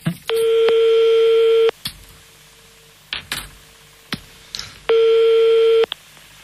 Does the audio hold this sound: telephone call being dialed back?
yes